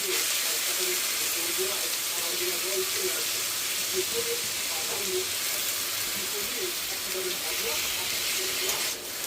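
Drained pieces of banana stem going into hot oil with nigella seeds and dried chillies, giving a steady broad sizzle and hiss throughout, under a voice speaking.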